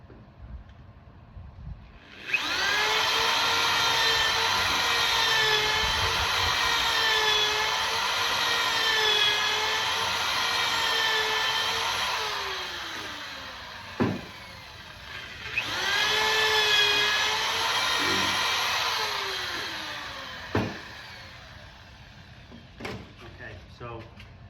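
A power drill bores holes through Himalayan salt bricks in two long, loud whining runs with a steady high pitch, separated by a short pause and followed by a few knocks and clatters.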